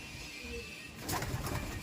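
A pet pigeon offered for sale from a flying breed line, cooing softly and close by, with a brief low call followed by a fuller, louder burst of coos in the second half.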